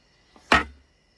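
A digging tool strikes a rock outdoors after dark, giving one sharp, close metallic clank with a short ringing decay in an otherwise quiet setting.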